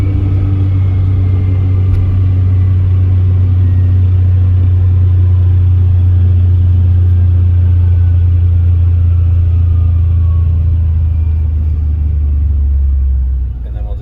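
A brand new side-by-side UTV engine rumbles loud and close, a steady low drone mixed with wind noise that eases slightly as the vehicle slows down, with no talking.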